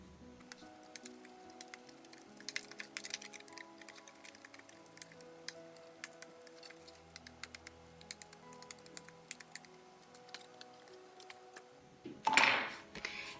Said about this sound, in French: Pour enlever les petits surplus, j'utilise un petit poinçon.